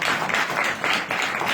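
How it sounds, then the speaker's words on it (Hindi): A church congregation at a Bethel Prayer House in Ludhiana breaks into sustained, dense applause, many hands clapping together loudly and close for the whole stretch. "ताली बजा दो इसके लिए।"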